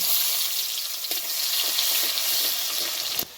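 Onions frying in oil for a hilsa fish and bottle gourd dish hiss in a bright, steady sizzle close up, with faint stirring scrapes and a brief drop near the end.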